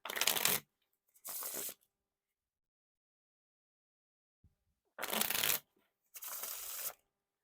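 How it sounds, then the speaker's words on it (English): Bicycle Denim playing cards are shuffled in four quick bursts, riffles and bridges, each a short fluttering whirr separated by silence, heard up close. "they seem to be pretty smooth with the bridge shuffles and wiffle shuffles here"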